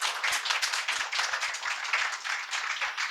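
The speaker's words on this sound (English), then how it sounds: "So please give yourselves a round of applause." A crowd at an outdoor political picnic claps steadily in a sustained round of applause, dense and even throughout with no voices.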